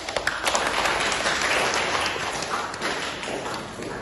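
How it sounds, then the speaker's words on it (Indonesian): Audience applause in a classroom during a microteaching session, a few sharp early claps swelling into a steady wash of clapping that fades slightly toward the end. "beri aplaus untuk kita semua."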